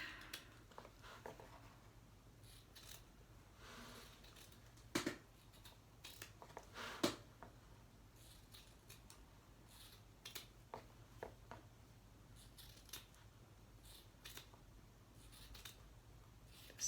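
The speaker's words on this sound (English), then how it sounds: "I'm going to trim that back." Faint, scattered snips of scissors trimming embroidery fabric, a few sharper clicks standing out against a quiet background hiss.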